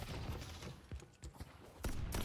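Turret gunfire in the video game Deadlock pops in a few quick bursts, mixed into dense in-game noise and effects, with no speech.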